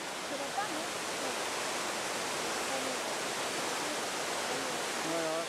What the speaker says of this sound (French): Voilà, de l'eau en pleine montagne.